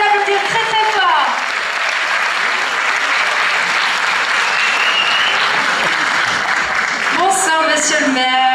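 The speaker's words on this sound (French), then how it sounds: "Monsieur le maire, oui, monsieur Hubert Brigand, messieurs, dames, on peut l'applaudir très fort." Theatre audience at the Miss Côte d'Or pageant loudly applauding the mayor, a dense, sustained burst of clapping, with a voice speaking over the start and again as the applause fades at the end.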